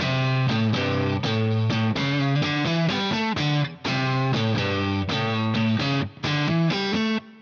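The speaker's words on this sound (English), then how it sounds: "attacking all the strings and muting the strings you don't want. So it sounds very rough" Rough, distorted electric guitar riff, every string struck with the unwanted ones muted, chords chopped into short, choppy stabs with brief gaps, loud and close with no talking.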